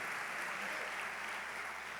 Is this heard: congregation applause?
yes